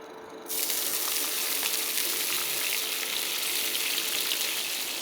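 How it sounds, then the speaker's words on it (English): A stock pot melts down in a hot pan, bursting into a loud, steady sizzle and frying hiss right after a brief quieter start. "So into my pan, I'm just going to add one of my stock pots."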